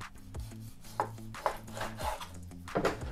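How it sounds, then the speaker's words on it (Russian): Pieces of meat, about 1.5 kg, set into a 5-litre pot for kharcho soup, giving several soft thuds and scraping knocks at an uneven pace, close and moderately quiet. "Укладываем мясо в кастрюлю."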